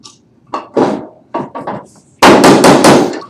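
Hammer work pulling nails from wood over a scrap block: several separate knocks and creaks, then a close, loud run of sharp strikes at the end, with no speech.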